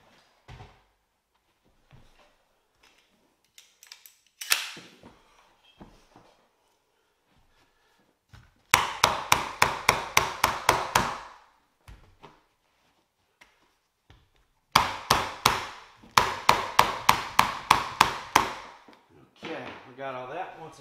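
Clusters of rapid, sharp clacks from a flooring staple tacker driving 3/16-crown, 9/16-leg staples into stair carpet, several quick runs of shots separated by quiet handling.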